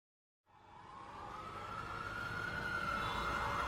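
Ambulance sirens wail during a chaotic emergency scene in an anime. After a moment of silence they cut in abruptly and swell steadily louder as a single, sustained wavering tone, with no voices.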